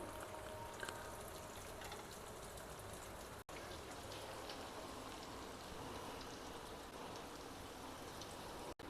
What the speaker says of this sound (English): Likewise, we can fry the remaining Kothimbir Vadis also.